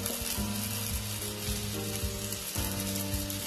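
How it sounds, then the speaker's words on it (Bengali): Spice paste of masala sizzles hard in hot oil in a pan while cooking a Bengali tilapia fish curry, a steady close crackle with faint stirring scrapes and no voices. "মশলাটা একটু কষে নিয়েছি, এর মধ্যে হলুদ গুঁড়ো আর লঙ্কার গুঁড়ো অ্যাড করব।"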